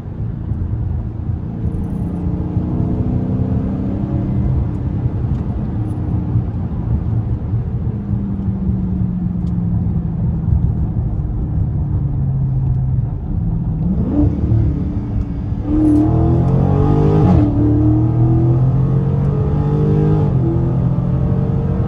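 A widebody Dodge Charger Scat Pack accelerates hard in track mode toward top speed, its engine a loud continuous roar heard from inside the cabin. The pitch rises and drops through gear changes, with road rumble throughout.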